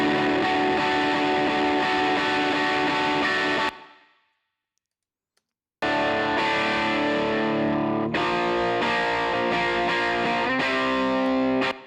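An isolated right-side distorted electric guitar track with a darker, woofier tone plays loud sustained chords. It drops to silence for about two seconds, then comes back in with a chugging riff.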